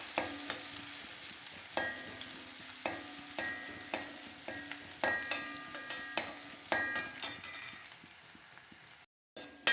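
Chopped onions, garlic and curry leaves fry in a pan with oil, a steady close sizzle broken by repeated scraping stirs of a spoon, with no talking.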